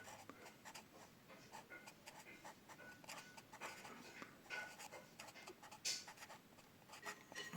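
A pen or marker writing a label for a flasher relay during turn-signal wiring on an AC Cobra replica build, giving close, soft scratchy strokes in short bursts over quiet shop background.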